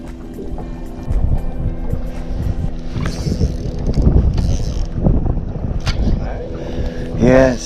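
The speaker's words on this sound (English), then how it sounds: "I hope that's Stevie's boat screaming through here" A motorboat screams past on a river in Canada, its engine drone swelling loudly and steadily, with wind buffeting the microphone and brief voices in the background.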